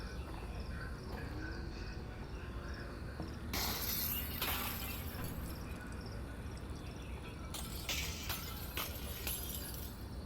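Glass shatters twice in the VR game Half-Life: Alyx, bright crashing bursts with tinkling debris standing out over a steady cricket-like chirring ambience.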